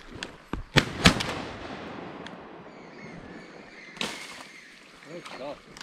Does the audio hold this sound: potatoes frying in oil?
no